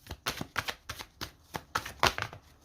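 Tarot cards riffled and snapped down on a table in a quick, uneven series of crisp papery bursts, close and clear, with no talking.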